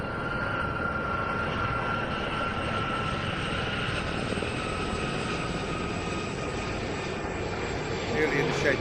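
Gazelle helicopters fly in formation at an air show, their engines and rotors making a steady, distant roar that runs evenly throughout, with a voice speaking faintly over it.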